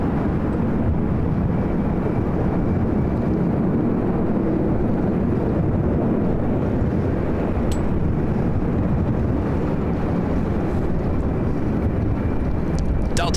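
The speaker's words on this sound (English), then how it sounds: "Delta Airlines flight 951 heading to JFK in the 767-300ER" A Delta Boeing 767-300ER jet departs LAX with a loud, continuous roar of engine thrust filling the whole span, steady and rumbling.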